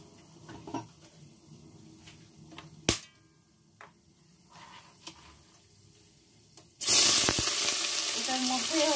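Bay leaf and shahi garam masala hit hot oil for a Bengali chicken kosha: a few quiet clinks and taps, then a sudden loud, steady sizzle that fills the last couple of seconds.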